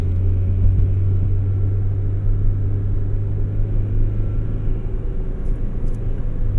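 A Honda Integra Type R replica's engine with aftermarket headers idles with a steady, loud low rumble that drones on evenly throughout, with no other sounds.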